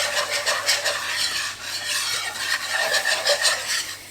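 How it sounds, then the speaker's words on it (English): Flour is worked into a roux for Swedish meatballs with a whisk and a wooden spatula, a steady close scraping and stirring in a pan with rhythmic strokes and no talking. "I'm going to be adding the 3 tablespoons of plain flour, and I'm just going to be keep tossing between the whisk and the wooden spatula"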